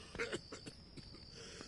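A man coughs in Dead Synchronicity, a short run of faint, muffled coughs over a quiet ambient hum.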